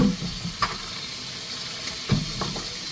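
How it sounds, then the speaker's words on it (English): A pot of water with green bananas bubbles and hisses steadily, with occasional louder pops and gurgles breaking through the continuous simmer. "Water is boiling now."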